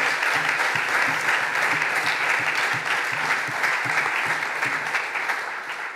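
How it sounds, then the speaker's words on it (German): A full hall applauds at a Green party state convention, sustained dense clapping from a large crowd, loud and even for several seconds before easing slightly at the end. "Applaus"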